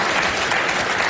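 Studio audience applauding on a Hungarian television show, a steady dense wash of clapping filling the whole short stretch at even loudness.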